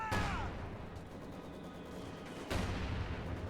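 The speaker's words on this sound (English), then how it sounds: "Soviet mortar opening up on" A Soviet mortar in Company of Heroes 2 fires two heavy booming rounds about two seconds apart, each ending in a rumbling tail. The rounds are moderately near but quiet overall, with faint battlefield noise between them.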